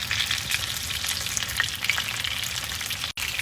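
Chicken frying on low heat in a pan, a steady close crackling sizzle with scattered brighter pops, continuous throughout and briefly cutting out near the end.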